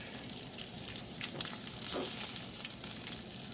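Steady crackling sizzle of crappie fish frying in a hot pan, continuous and fairly close, with a few sharper pops.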